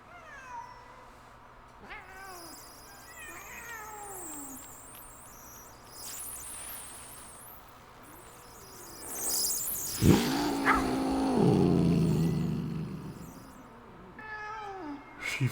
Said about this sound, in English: there's also a pretty angry looking cat